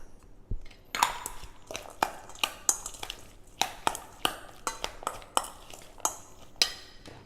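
A spoon stirs pineapple into coleslaw in a bowl, making a steady series of sharp clinks and scrapes against the bowl, close up and fairly quiet, with no voices.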